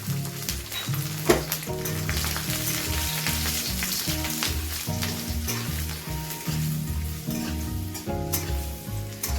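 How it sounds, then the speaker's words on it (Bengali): Whole garlic cloves fry in hot oil in a pan for a mutton fry, giving a steady close sizzle with light stirring scrapes, while music plays underneath and nobody speaks. "রসুনটা একটু ভাজা ভাজা করে নিয়ে দিয়ে দেবো কুচানো পেঁয়াজ"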